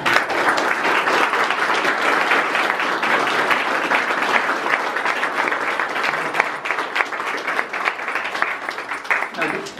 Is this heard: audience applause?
yes